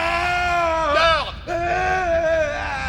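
A deranged man in a 1995 action film screams and wails in long, loud, strained howls that rise, break off briefly, then resume, close and sustained with faint background noise beneath.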